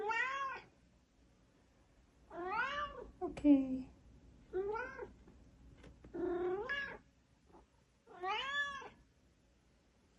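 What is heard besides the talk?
pet cat meowing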